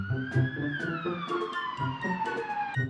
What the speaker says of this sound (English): A for ambulance.